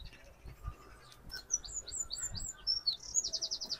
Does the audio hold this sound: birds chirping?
yes